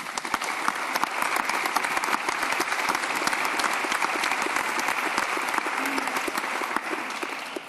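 Sustained applause fills the House of Commons chamber, many hands clapping in a dense, steady patter that holds at an even level throughout, close and full with no voices over it.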